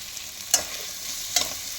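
Pre-fried potatoes sauté in oil with turmeric and salt for a green banana kofta curry, a low steady sizzle broken by two quick scraping stirs of a spatula against the pan.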